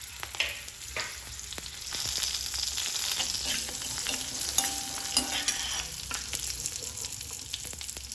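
Cashews and green chillies roast in a hot pan with a steady, fairly loud sizzle and crackle, joined by intermittent scraping and stirring sounds, close up with nobody talking.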